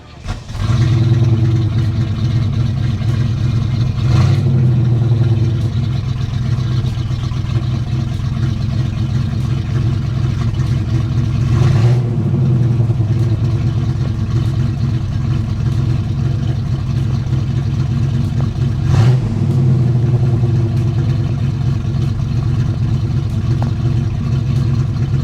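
A 1978 Pontiac Trans Am V8 runs steadily up close, a deep loud rumble with several brief revs spaced through the stretch and no talking.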